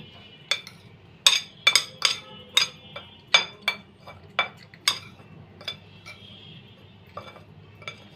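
A spoon clinks against a bowl while salt, turmeric, chili powder and cumin powder are mixed as dry ingredients for a potato chop batter. About a dozen sharp, scattered taps sound close over a quiet background.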